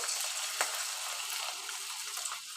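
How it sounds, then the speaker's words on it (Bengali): Steady sizzling of onions frying in hot oil in a wok, a constant crackling hiss with a few small pops, heard alone. "তেল কড়াই বসিয়েছি গরম হয়েছে এবার এক একে সবগুলো পেঁয়াজও আমি ভেজে নিব"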